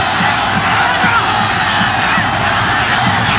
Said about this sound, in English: And now the Colombian crowd responding.